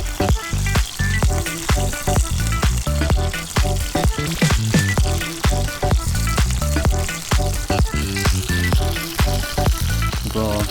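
Chili garlic chicken pieces fry steadily in hot oil, a dense continuous sizzle with frequent crackles and pops, loud and close throughout as pieces are turned one by one.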